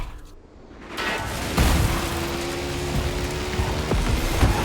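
Steady rain falls in the racing game The Crew Motorfest as a dense, even hiss that swells after a quiet start. A low rumble sits beneath it and no one speaks.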